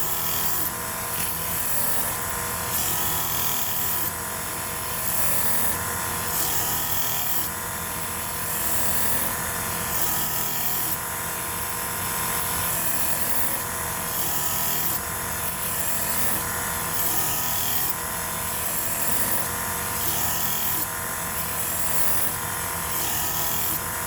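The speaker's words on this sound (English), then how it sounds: "So after I go all through the knives with that, with this belt here, I'll go to a much finer" Work Sharp belt sharpener grinding a pocket knife, a steady high-pitched abrasive whir running continuously near and loud, with slight surges as the blade passes along the belt, no talk.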